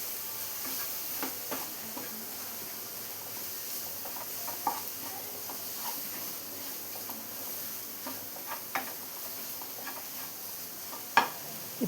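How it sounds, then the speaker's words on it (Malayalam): Tomatoes and spices sauté in a pan for a breadfruit and prawn curry, giving a low, steady sizzle with scattered soft clicks from stirring. No one speaks. "ഇപ്പം എല്ലാം കൂടി നന്നായി തന്നെ ഒന്ന് വഴറ്റിയെടുത്തിട്ടുണ്ട്"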